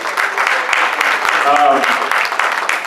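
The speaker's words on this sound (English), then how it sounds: "Give him a big round of applause for the updates." Conference audience applauding during an afternoon session, a steady dense wash of clapping that fills the whole stretch, with a voice briefly audible partway through.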